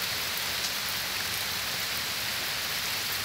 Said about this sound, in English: I'm sure that you can hear this beautiful rain.